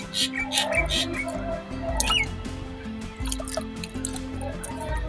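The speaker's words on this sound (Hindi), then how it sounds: "फाइनली मैंने इसमें पानी वगैरह भी डाल दिया" Water drips and splashes while being poured onto a freshly planted mor pankhi cutting in a pot, with a steady trickle under faint background sounds.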